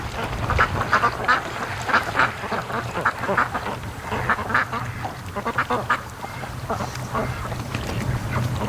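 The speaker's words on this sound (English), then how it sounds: "These Muscovies are they're definitely a lot more adventurous than the other ducks" A flock of Muscovy ducks quack repeatedly from a lake shore near a boat, with a steady jumble of rough calls over wind and low background rumble.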